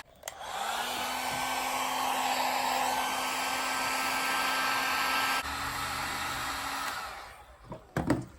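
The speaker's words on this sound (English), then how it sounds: "now when I heat it up with my heat gun, I'll be able to spread it apart and flatten it out" A heat gun blows steadily while softening a split length of PVC pipe, a continuous loud airy whir with a low hum that holds for several seconds, shifts slightly partway, then cuts off into a few brief handling knocks.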